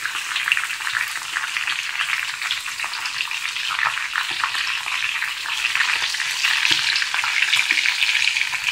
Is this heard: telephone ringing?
no